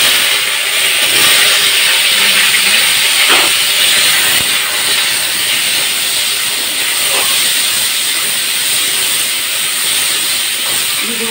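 Potatoes drop into hot oil seasoned with cumin and bay leaves, giving a loud, steady sizzling hiss that carries through the whole stretch without speech.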